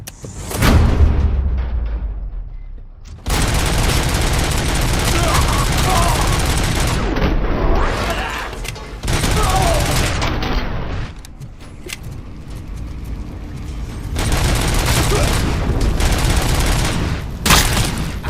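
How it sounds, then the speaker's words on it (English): Gunfire from the video game RoboCop: Rogue City, loud sustained bursts of shots in several long volleys separated by short gaps, with no voices over it. "They're using real bullets."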